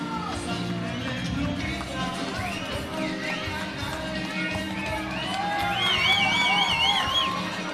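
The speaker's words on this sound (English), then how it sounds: "Oh man, you hear these crowds?" A boxing arena crowd cheers and roars as a fighter walks to the ring, a dense sustained wall of voices and whoops that swells louder toward the end, with whistles rising above it.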